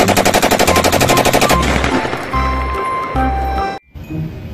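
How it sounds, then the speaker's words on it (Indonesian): Rapid bursts of video game gunfire, a fast rattling volley followed by several heavy booming shotgun blasts, loud and close, ending abruptly. "ada tembakan shotgun warna merah"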